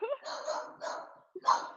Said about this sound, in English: I don't know what it is about this dog that's walking by that is just absolutely setting her off